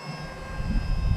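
Electric ducted fan RC A-10 jet held at half throttle, a steady whooshing fan roar that swells slightly louder toward the end, close by with no voices.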